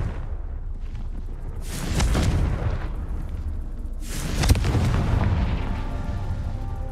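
Confringo spell explosions in the video game Hogwarts Legacy, two heavy booming blasts with rumbling tails a couple of seconds apart, loud and alone over steady game ambience.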